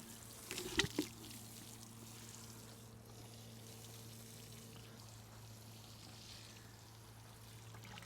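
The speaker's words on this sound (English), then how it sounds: "So we'll use a watering can" Water pours steadily and softly from a watering can onto freshly sown vegetable seed soil in an allotment. A couple of brief clunks come first, then a low, continuous outdoor wash follows.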